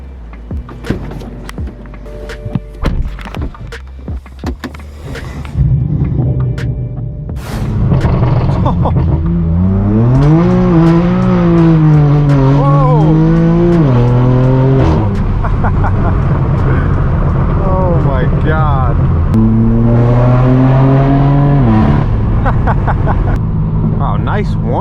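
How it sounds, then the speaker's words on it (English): A straight-piped BMW M4 F82 engine starts and revs hard several times, loud rising and falling roars with rough crackle, close up and without talk. "let's hop inside the M4, start this thing up"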